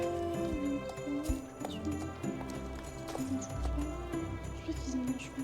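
A horse in a video game clip-clops along in a steady walking rhythm, with a soft whinny under a continuous game soundscape of music and ambience.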